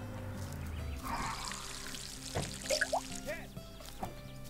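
Plants are watered in the Garden Simulator video game, with soft pouring and trickling water sounds and a few brief splashy droplets under game ambience, without speech.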